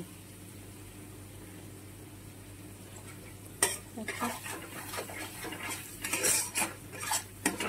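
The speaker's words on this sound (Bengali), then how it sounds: "এখন এটা ভালো করে একটু সাতলাবো" Spice paste of ground spices, salt and cardamom paste sautéing in ghee in a pan: a quiet hum at first, then close, repeated scraping and clinking of a spoon stirring with a faint sizzle underneath.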